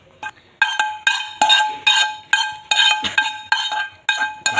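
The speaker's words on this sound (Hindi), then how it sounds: "इसको इसके अंदर अच्छे तरीके से मिक्स कर देना।" A spoon repeatedly clinks against a bowl while stirring mayonnaise and ketchup together for a club sandwich, with about ten sharp, regular taps close up and no voices.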